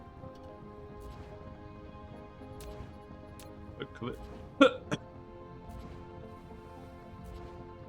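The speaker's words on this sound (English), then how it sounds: "I had a hiccup that turned into an actual cough" A single hiccup breaks into a short cough, close and fairly loud, during a quiet stretch of a video game session with faint background ticks.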